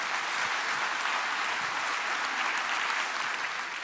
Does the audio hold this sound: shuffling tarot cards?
no